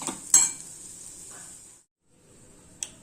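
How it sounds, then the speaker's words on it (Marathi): Grated coconut sizzles in hot oil as a spatula stirs it in a pan, with a steady frying hiss, a sharp scrape or clink near the start, a brief silence, then more hissing and a final tap. "तेलामध्ये चांगले ब्राऊन होईपर्यंत परतून घेऊया चांगले परतत राहूया"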